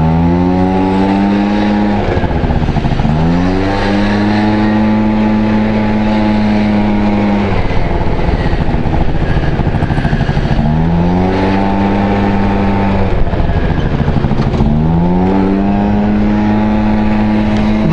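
A Honda Dio 27 scooter engine drones loudly and close up while riding, rising in pitch as it accelerates, holding steady, then dropping and climbing again in repeated surges.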